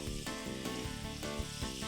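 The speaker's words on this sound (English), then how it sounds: "Ooh, sizzling." Three tablespoons of butter sizzle and crackle steadily in a pan heated over medium, with no talking.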